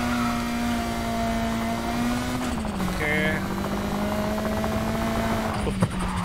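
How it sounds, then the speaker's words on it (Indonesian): A steady droning helicopter engine hum with a constant low tone fills the scene as it follows nearby in the game Need for Speed Heat, with brief tonal blips over it. "ada suara helikopter ngikutin"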